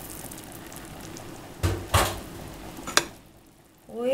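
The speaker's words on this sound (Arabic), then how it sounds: "وهقلبه كده بس عشان يدخل كله في بعضه" Sugar syrup for dessert shorbat stirred in a pot after lemon juice is added, a few soft scraping and clinking strokes over a quiet simmer, fairly close.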